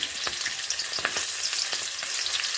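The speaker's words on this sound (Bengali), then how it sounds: "আর তেজপাতা ফোড়নগুলোকে এইভাবে নেড়ে নিচ্ছি" Chillies, panch phoron and bay leaves fry in hot oil while being stirred, a loud, close, steady sizzle broken by sharp crackles and pops, with no voices.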